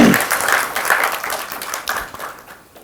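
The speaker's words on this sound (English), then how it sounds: "thanks for the applause" A conference audience applauds after a talk on debugging accounting bugs, a burst of many hands clapping that is loud at first and gradually thins and fades over a few seconds.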